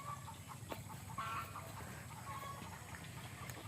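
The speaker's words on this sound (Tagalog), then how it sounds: "Yung mga manok de." Backyard chickens clucking faintly in the background, soft scattered clucks over a low steady hum with no clear talk.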